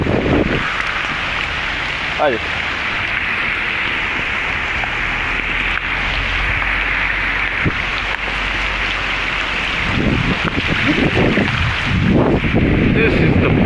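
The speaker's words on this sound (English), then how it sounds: "It's raining really hard" Heavy rain pours steadily across a park, a dense continuous hiss with wind buffeting the microphone and a person speaking briefly over it.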